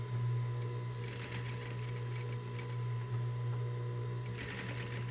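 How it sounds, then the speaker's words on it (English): A home sewing machine stitches elastic onto a bandeau top, its motor humming steadily and close throughout, with bursts of rapid needle clatter rising and falling over the continuous drone. "Make sure it's nice and straight, and let's sew away."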